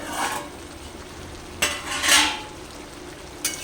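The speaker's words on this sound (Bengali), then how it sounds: "লবণ দিয়ে একবার ভালো করে নাড়াচাড়া করে ঢাকা দিয়ে দেবো" Ridge gourd curry with salt stirred in a pan, a few scattered scraping spoon strokes and light clinks against the metal over a faint simmer, close and quiet, no talking.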